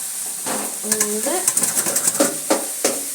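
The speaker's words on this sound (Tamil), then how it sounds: "வதக்கிட்டு இருக்காங்க வெங்காயம் தக்காளி எல்லாம் கொத்தவரங்காய் ஃப்ரை பண்ணுறதுக்காக" Onion and tomato sauté for a cluster beans fry with a bright, crackling sizzle, broken by quick stirring clatters and short metallic scrapes against the pan.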